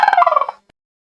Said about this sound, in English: He wiggles his feathers and goes, "Gobble, gobble, gobble."